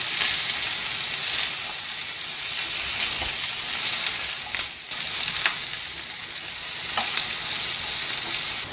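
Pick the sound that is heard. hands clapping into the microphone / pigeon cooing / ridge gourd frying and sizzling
ridge gourd frying and sizzling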